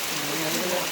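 Steady rain patters down outdoors near a lake, a dense even hiss of drops with no pauses.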